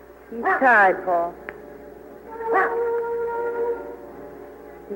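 Dog in a wilderness radio drama, a couple of howling barks and yelps at moderate distance, with voices speaking around them.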